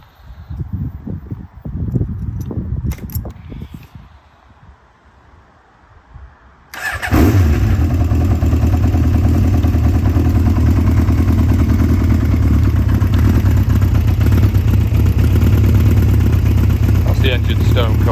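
A Royal Enfield Interceptor motorcycle, left unused for four years, cranks and starts cold, then settles into a loud, steady idle with a clattering clutch rattle, close up; someone talks quietly before it fires.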